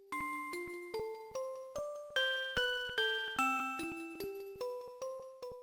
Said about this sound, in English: it plays the Pokemon Lullaby, which sounds like this